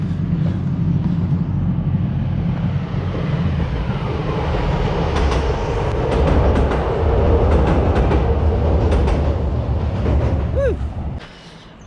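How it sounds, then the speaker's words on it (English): A train passes close by outdoors in a storm, a loud continuous roar with rattling wheel clatter and a brief squeal near the end before it fades quickly. "Here comes the train."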